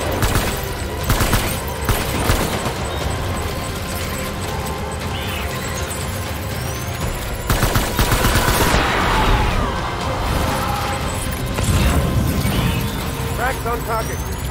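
Gunfire in the video game Death Stranding: bursts of shots and crashing noise in a dense, loud battle mix, with voices calling out over the fighting.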